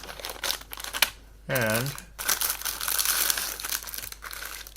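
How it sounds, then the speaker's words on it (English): A plastic bag full of model tank track parts for a Rye Field Models Tiger kit crinkles and rustles up close in short bursts, with someone talking quietly around the handling. "I've got a plastic bag here full of tracks, bits of tracks"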